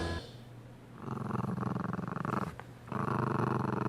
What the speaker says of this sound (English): it's growling at me like an angry vacuum